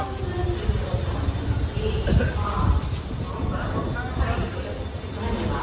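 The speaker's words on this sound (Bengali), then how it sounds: "এই হচ্ছে আমাদের স্পেশাল ট্রেন।" A special train at Guwahati railway station in Assam gives off a low, continuous rumble and hiss at evening, fairly near and steady throughout, with background voices likely.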